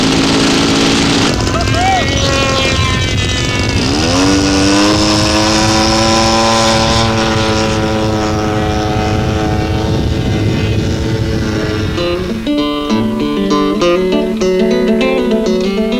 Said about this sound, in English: for would-be pilots who like to fly their own, there are even radio-controlled model planes